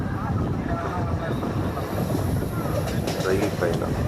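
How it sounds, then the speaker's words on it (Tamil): A passenger train rolls along the rails with a steady, dense rumble and some wind noise, heard from a window seat aboard, continuous and fairly loud throughout. "ரயில் பயணம்"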